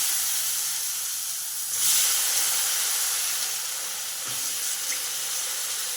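Loud, steady sizzling hiss of eggplant pieces frying in hot oil tempering, close up, swelling briefly near the start and then settling into a constant crackle.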